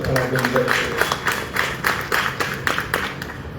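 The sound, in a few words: audience applause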